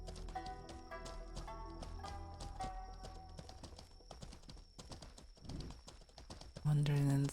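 Steady, soothing clip-clop of horse hooves while riding in the Mortal Online 2 video game, an even rhythm of close footfalls under soft sustained background music, ending in a louder muffled thump.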